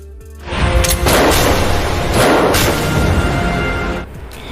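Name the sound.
gunshot in a TV drama scene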